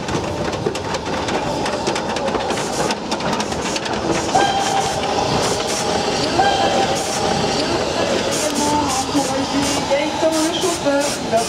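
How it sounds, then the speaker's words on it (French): A vintage steam locomotive runs along a railway in the Ardèche, a loud rumbling, rattling rail roar with clanking that continues throughout while people talk over it. "au détour d'un chemin de fer, on peut trouver la loco d'époque"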